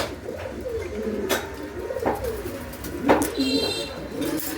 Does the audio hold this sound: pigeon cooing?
yes